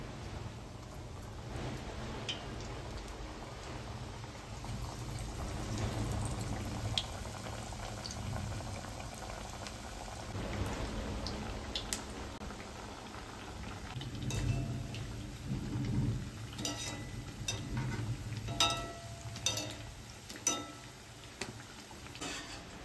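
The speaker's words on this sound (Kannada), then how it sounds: "ನೋಡಿ, ಹೀಗೆ ಒತ್ತಿಕೊಂಡು ಎಣ್ಣೆಗೆ ಬಿಡಬೇಕು." Masala vada (chattambade) patties fry in hot oil with a steady, fizzing bubble and crackle. Faint spoon or ladle stirring is heard now and then, and no one speaks.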